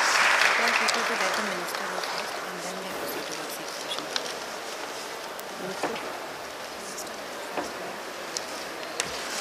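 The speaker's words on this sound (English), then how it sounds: "let's once again have a huge round of applause" Audience applause at the inaugural session of a higher education summit in a conference hall, a fairly quiet, diffuse patter of many hands clapping that slowly fades over several seconds with scattered louder claps.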